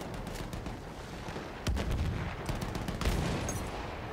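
Gunfire from the colossal tank in Battlefield 1 comes as two heavy, booming shots over a steady rumble of distant battle, the blasts loud and close with no talking.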